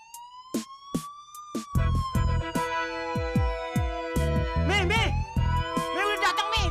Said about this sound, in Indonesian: Pakai sirene lagi tuh.